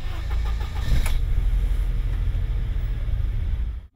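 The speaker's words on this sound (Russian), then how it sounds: "Все они разбегаются по своим машинам, чтобы произвести первый запуск двигателя." New forestry department vehicles have their engines started for the first time, producing a loud, steady close engine rumble that holds through the moment and cuts off at the end.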